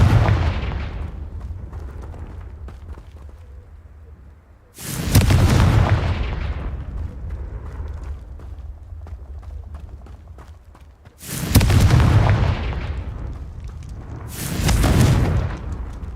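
Confringo spell explosions from Hogwarts Legacy burst loudly three times, each a sudden fiery blast that rumbles and fades, separated by quieter ambient stretches.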